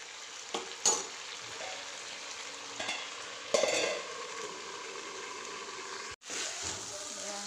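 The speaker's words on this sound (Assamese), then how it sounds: "ৰঙালাও আৰু আলুখিনি ভাজি লোৱাৰ পিছত বুটখিনি দি দিলোঁ। এতিয়া আৰু এনেকৈ ভাজি ভাজি অকণমান সিজা হ'লে পানী ঢালি দিম দেই।" Brinjal, potato and chickpeas fry in a pan, a steady close sizzle broken by several sharp stirring scrapes and clatters of a spoon against the pan, with a brief cut near the end.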